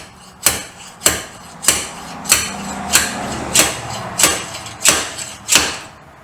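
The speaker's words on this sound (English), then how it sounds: "then hopefully with the slide hammer we can pull the bearing out" Slide hammer working on a Triumph 500 engine to pull out a bearing: nine sharp metallic blows at a steady rhythm, about one every 0.6 seconds, loud and close with a short ringing clank on each strike.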